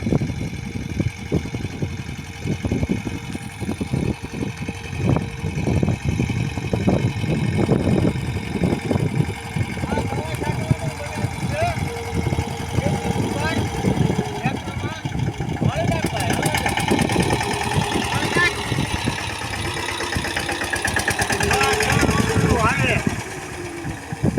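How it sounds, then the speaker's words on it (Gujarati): A mini tractor engine fitted with a pesticide spray pump runs steadily on a farm plot, a continuous rough, knocking idle close to the microphone, with people talking over it throughout. "આ ટ્રેક્ટરમાં ફુવારા ગૂંથવા છે"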